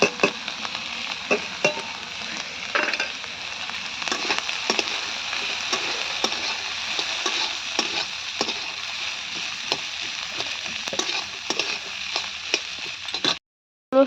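Chopped garlic and green chilies fry in oil in a pan, a steady bright sizzle punctuated by scraping stir strokes, continuous until it cuts off abruptly near the end.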